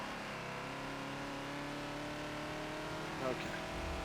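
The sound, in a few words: Ford Falcon XB engine downshifting at Road America in Forza, video game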